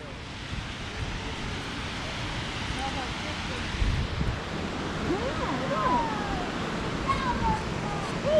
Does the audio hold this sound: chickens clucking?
no